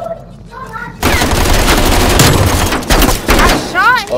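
Call of Duty: Black Ops Cold War gunfire, a loud sustained burst of rapid automatic shots after a quieter opening, with brief breaks and game sound effects layered over the end.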